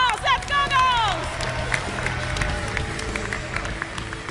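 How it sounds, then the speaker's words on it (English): A crowd at a Ubisoft E3 2012 press conference cheers and claps, a broad steady roar of voices right after a brief rising electronic tone. "I think the girls need some cheer up, right? Let's hear it."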